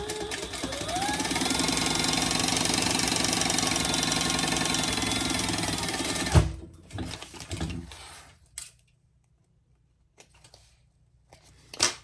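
A sewing machine runs a row of topstitching on a crossbody bag, a steady close mechanical whir for about six seconds that stops abruptly, followed by a few handling clicks and near silence.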